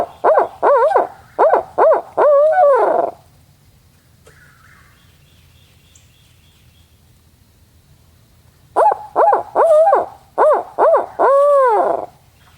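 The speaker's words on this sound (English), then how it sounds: "Preston hit his owl hooter, and we located some birds." Loud owl-like hoots come in quick rhythmic series, a burst at the start and another near the end, with quiet pause between; an owl hooter call used to locate wild turkeys on Florida public land.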